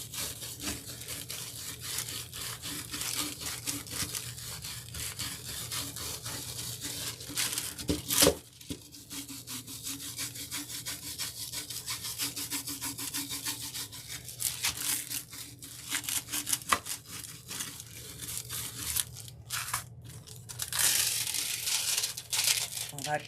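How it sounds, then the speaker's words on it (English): A super stiff, heavy-duty scrubber scrubs over a foiled cup in a steady run of close, rough scratching and crinkling strokes, with a voice talking over parts of it. "I'm taking my super, super stiff, heavy-duty scrubber and seeing if I can get a little more release on here"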